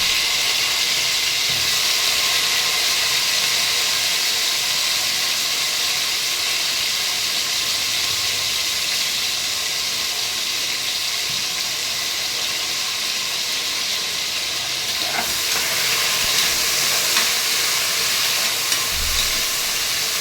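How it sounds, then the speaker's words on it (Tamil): Tomatoes sautéing in oil in a pan, a loud, steady hiss and sizzle that runs unbroken throughout, close up, with a faint stirring clink near the middle. "தக்காளி நல்லா வதங்கிட்டு எண்ணெய் திருப்பி வர அளவுக்கு"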